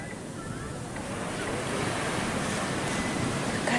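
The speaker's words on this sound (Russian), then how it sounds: "Волны большие, океан поднимается." Pacific Ocean waves surge and wash in a steady roar, with wind buffeting the microphone, gradually growing louder.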